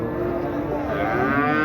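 A cow moos in one long, loud, drawn-out call at a busy cattle market, the tone wavering slightly as it sustains.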